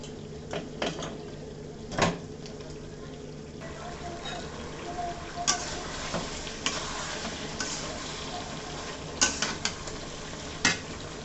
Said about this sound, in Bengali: একটু পানি দিয়ে মশলাটা ভালো করে কষে নেব।